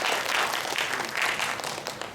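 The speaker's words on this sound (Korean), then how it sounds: "다시 한번 박수 한번 쳐주시겠어요?" A church audience applauds steadily, a dense sustained patter of many hands clapping at close range with no voices over it.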